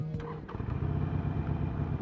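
A Harley-Davidson Sportster motorcycle engine with stock exhaust kicks over and settles into a low, steady idle, close and fairly loud.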